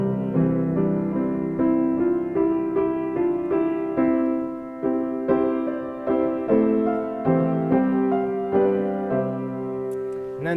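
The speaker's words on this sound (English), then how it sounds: "It begins with the horns intoning a noble fanfare in the meter of 12/8," Baroque orchestra opening a Bach cantata chorus, horns sounding a noble fanfare in a lilting 12/8 meter over sustained strings and winds, full and steady with rhythmic swells and no voices.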